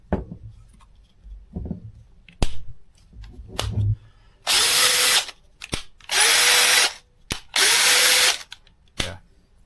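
A Craftsman 20V brushless cordless drill driver spins up in three loud bursts of high whine, each lasting about a second, preceded by clicks and handling knocks.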